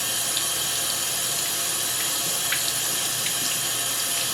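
Tap water runs steadily into a sink while a makeup brush is rinsed and massaged under the stream, a continuous close hiss with faint splashes and no talking.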